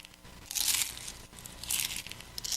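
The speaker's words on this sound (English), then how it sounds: "Am I chewing too loud?" Popcorn being chewed close to the mouth, two crisp crunching bursts about a second apart with softer crinkly crackles between, quiet and intimate with no talking.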